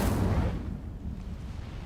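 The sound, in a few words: Incendio fire spell cast in Hogwarts video game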